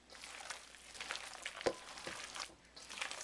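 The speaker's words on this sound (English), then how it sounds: "Now I'm going to mix everything together and make sure the cabbage gets well coated." Hands mix cabbage with rice-paste kimchi seasoning, producing soft, irregular wet squelching and rustling with a few sharper slaps, quiet and close, with no talk.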